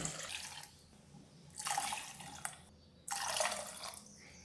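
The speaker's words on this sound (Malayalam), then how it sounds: "ഇനി നമുക്കിത് വേവാൻ ആവശ്യമായ വെള്ളം ഒഴിച്ചു കൊടുക്കാം." Water is poured into a cooking pot of lentils and turmeric for drumstick-leaf rasam in two separate splashing streams, close and fairly soft, each lasting under a second, over quiet kitchen background.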